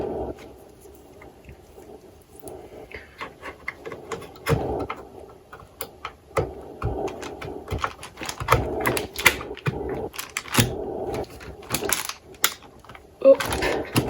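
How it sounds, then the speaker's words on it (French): RAM sticks pressed into the slots of a PC motherboard during an upgrade, a series of sharp plastic clicks and small tapping knocks at close range, irregular and faint. "Et on insère nos sticks de RAM."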